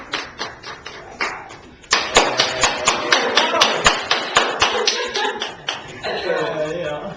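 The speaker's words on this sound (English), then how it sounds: "You guys can round of applause." A classroom group claps in scattered, rhythmic bursts, with individual claps sharply separated, sitting close and fairly loud, while voices murmur underneath.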